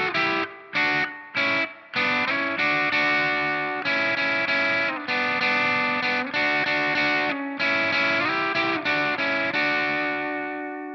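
Electric guitar plays the closing phrases of a solo, ending on a jazzy major 7 chord, with a distorted, chorus-treated tone: sustained notes and bends separated by short gaps, close and loud, with no talk.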